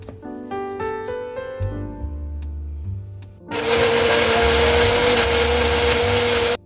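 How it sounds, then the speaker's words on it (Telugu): After a few seconds of tonal music, a mixer grinder whirs on loudly and runs steadily, grinding masala paste for a green chilli egg curry. "ఇవన్నీ మనము మిక్సీ పట్టుకోవాలండి మెత్తగాను పేస్ట్ లాగా"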